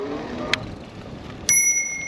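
A loud Butsu bicycle bell mounted by the throttle on a Sun Seeker Fat Tad recumbent trike: a short light tap, then one bright, sharp ding that rings on with a clear metallic tone.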